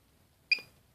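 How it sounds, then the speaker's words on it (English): A sharp electronic beep from a VGA switch as its button is shorted with tweezers, one short bright tone with a quick decay, heard alone against near silence. "and you'll get a beep there."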